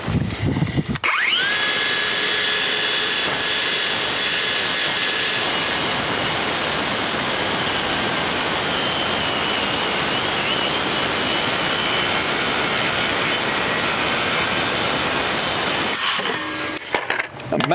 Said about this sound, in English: I'm going to try and make this cut back this direction without hitting that rock